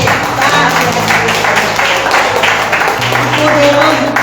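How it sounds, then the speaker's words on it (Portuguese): A church congregation claps during a worship service, a dense steady patter of applause lasting throughout, loud and close, with a low sustained tone underneath. "Vamos aplaudir o Senhor nessa hora para despertar"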